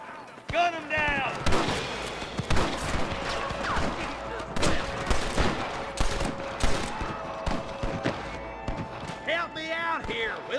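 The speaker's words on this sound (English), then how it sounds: "Rustler guard! Gun them down!" Gunfire in the video game Red Dead Redemption against rustlers: repeated sharp shots in irregular bursts, loud and close, mixed with game sounds and shouted voices at the start and end.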